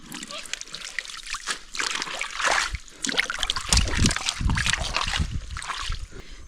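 Cold spring water splashes and trickles nearby in a steady, uneven flow, with louder sloshing bursts partway through.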